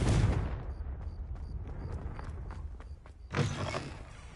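The Confringo explosive spell is cast in Hogwarts Legacy, opening with a loud blast whose rumble trails away, then a second burst lands a few seconds later.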